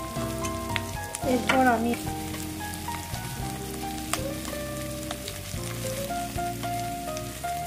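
Chopped onions sizzle and crackle steadily in a pan for gravy chowmein, stirred now and then with clinks and scrapes, as someone talks over the frying.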